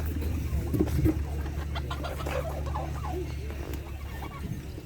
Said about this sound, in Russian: вот такие индейки продаются